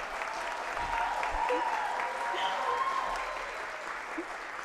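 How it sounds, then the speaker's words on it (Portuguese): A round of applause at a meeting, many hands clapping steadily at a moderate level throughout, with a faint voice or murmur briefly audible beneath. "Por favor, uma salva de palmas para o Trindade."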